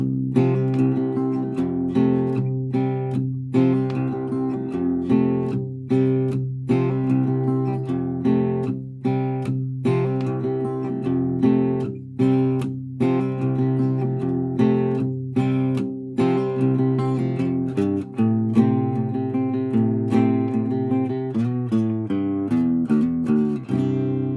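Strummed acoustic guitar chords in a steady rhythm, a chord progression played alone without any voice.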